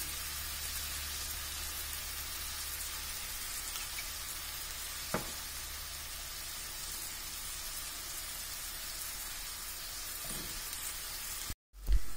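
Soft, continuous sizzle of tomatoes frying in a pan for cauliflower gravy, steady and fairly quiet, with one brief tap and a short clatter near the end.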